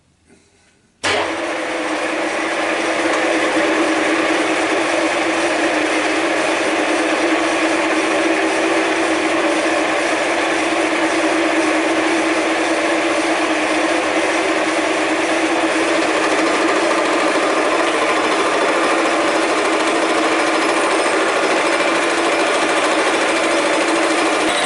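Deckel milling machine cutting metal, starting abruptly after a brief quiet moment and then running as a loud, steady, high whining grind with constant chatter for the rest of the stretch, with no voices.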